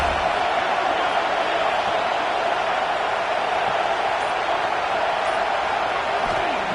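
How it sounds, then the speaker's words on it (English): A football stadium crowd roaring on third down, a dense, steady wall of cheering that holds loud and unbroken throughout. "Third down and the crowd really getting into it."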